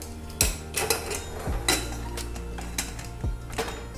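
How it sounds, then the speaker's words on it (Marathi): Pressure cooker lid being fitted and closed, a series of metallic clanks and scrapes of metal on metal, close and moderately loud, with a few knocks spaced over a few seconds. "आता इथं झाकण लावूया"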